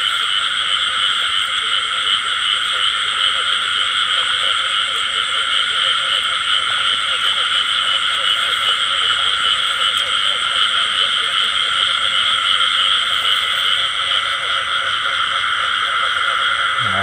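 Field frogs croak in a dense, continuous chorus in a flooded rice paddy, a steady loud buzzing drone of many calls filling the whole stretch with no pauses.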